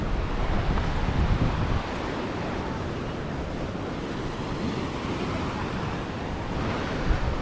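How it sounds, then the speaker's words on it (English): Steady wind and surf at a rocky Mediterranean island coast, a broad continuous roar of waves with wind buffeting the microphone, slightly heavier at the start and end, no voices. "It is nice and windy."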